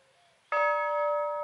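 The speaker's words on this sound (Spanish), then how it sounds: "Sí suena la campana de la estación de Villa Ruiz." A single clear strike of the old bell at the Villa Ruiz railway station rings out after a quiet moment, its bright metallic tone sustaining and slowly fading, close and fairly loud.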